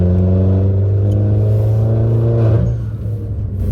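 A Peugeot RCZ sports car engine rumbles loud and close with a deep, strong drone, then its revs drop away toward the end.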